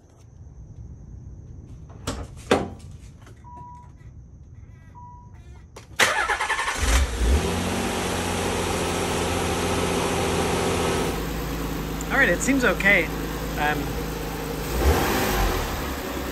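A Nissan 300ZX engine fitted with a newly installed intake plenum cranks and fires after a few clicks and a chime, then settles into a steady, slightly high idle with a brief rise in revs. Someone says a few words.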